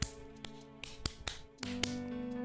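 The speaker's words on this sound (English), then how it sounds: "they're actually made out of a rubbery, fleshy material that makes a clapping noise whenever I step around" Rubbery, fleshy shoes slap and clap with each step in a short run of sharp, close smacks over steady background tones, several distinct hits spaced unevenly.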